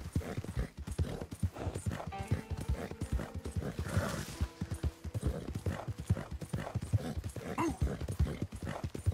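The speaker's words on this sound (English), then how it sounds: "I think I like this horse." Horse hooves clip-clop in a steady galloping rhythm in the video game Red Dead Redemption, with a brief neigh partway through over faint background game sounds.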